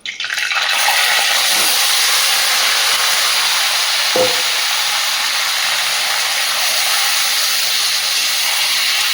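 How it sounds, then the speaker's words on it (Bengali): Marinated chicken goes into hot oil with whole spices, setting off a sudden loud burst of hissing sizzle that settles into a steady, intense crackle, with one clink of a utensil midway. "এখানে ম্যারিনেট করে রাখা চিকেনটা দিয়ে দেবো।"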